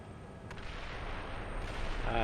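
Distant indirect artillery fire in the tank simulator Steel Beasts Pro, a low continuous rumble of far-off shelling with a faint sharp crack near the start.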